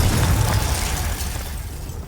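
A Confringo blasting spell goes off in Hogwarts Legacy, a loud, full explosion with a heavy low rumble that rolls out and fades over about two seconds, with no talking.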